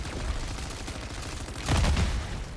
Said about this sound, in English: that explosion is so cool.